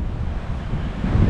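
Strong gusting wind blowing across open hill country, a steady loud roar with heavy low rumble buffeting the microphone throughout, no voices.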